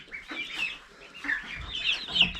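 Nearly ninety farm ducks quack and chatter together in a lively farmyard jumble, close by and fairly steady, with no one speaking.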